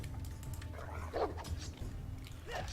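A dog barks and lunges in an attack during a Game of Thrones video game, with a few short yelping barks rising over a steady low game rumble.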